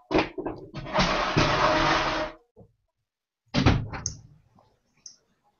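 A door is pushed shut indoors, a rough sliding rush followed by a firm thump, then after a pause another short shove and settle, with faint faraway sounds trailing off.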